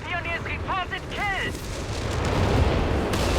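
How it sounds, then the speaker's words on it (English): A walking Stuka rocket barrage in Company of Heroes 3 lands as a rolling series of deep, rumbling booms that swell and linger, following a brief burst of voices at the start. "There goes the walking Stuka."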